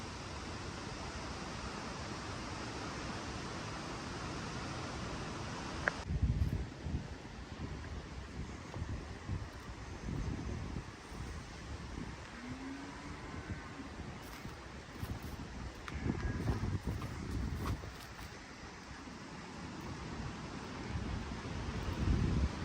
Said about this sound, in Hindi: मुसलसल घंटों से यहाँ पे ना तेज़ हवा चल रही है